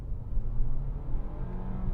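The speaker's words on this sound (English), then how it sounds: "the CVT and the engine, you know, noise is quite audible on the inside" A steady, low engine and CVT drone under hard acceleration in a 2024 Nissan Altima, a continuous whirring hum, fairly loud and even throughout, heard from inside the car.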